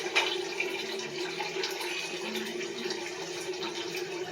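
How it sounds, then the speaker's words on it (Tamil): Continuous water pouring steadily into a pressure cooker of rice for chicken biryani, a broad splashing hiss with no pauses and no talking. "ஒன்றரை லிட்டர் அளவுக்கு நம்ம தண்ணி சேர்த்துக்கலாம்"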